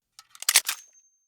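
Layered mechanical clicks and metallic clacks of a redesigned sniper rifle for Battlefield 2042 form a short, crisp rattle of a few quick bolt-like snaps, close and dry, fading to a faint ring.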